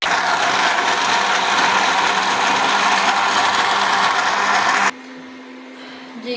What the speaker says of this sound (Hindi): बर्फ़ डाल के इसे फिर से अच्छे से ग्राइंड करेंगे।